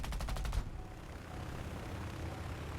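An F4F-3 Wildcat's machine guns fire at a BF-109 in a flight combat game, a short rapid burst of shots up close, then engine drone continuing after the burst stops.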